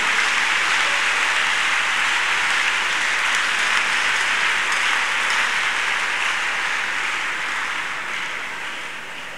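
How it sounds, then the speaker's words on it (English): Church congregation clapping together in praise, a dense, continuous wash of many hands that holds steady and then eases slightly toward the end, with no speech on top. "Let's clap unto God and appreciate him."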